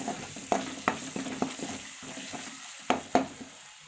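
Liver pieces frying in a pan, stirred with a spoon that scrapes and clinks at an irregular pace over a steady close sizzle, with a brief quieter stretch midway.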